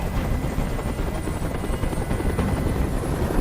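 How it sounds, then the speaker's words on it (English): A helicopter hovers close overhead in the video game Detroit: Become Human, a loud, steady rotor roar that fills the whole moment without a break. "Tell that helicopter to get out of here."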